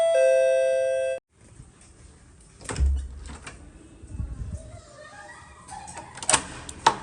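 An electronic doorbell in a home rings a sustained chime for about a second and then cuts off, leaving quiet household clatter and faint kitchen noises.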